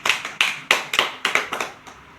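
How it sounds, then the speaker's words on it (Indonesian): A small classroom group clapping for a student named Rida, about eight loose, slightly uneven claps spread over two seconds, close and moderately loud with no talking. "tepuk tangan untuk Rida"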